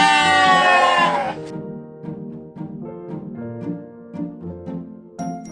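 A sheep on a farmyard gives one loud, drawn-out bleat up close, followed by quieter overlapping bleats and farm sounds that rise and fall.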